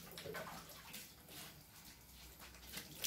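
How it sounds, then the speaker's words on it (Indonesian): Water splashes and sprays over a motorbike during a rinse, a quiet, continuous hiss and patter with no voices. "sekarang aku siram lagi pakai air"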